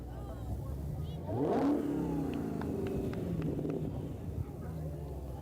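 A drag racing car on slicks revs its engine at a street car show, one rising surge that passes close, then a lower idle rumble under outdoor crowd murmur and talk.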